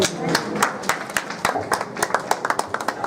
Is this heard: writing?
no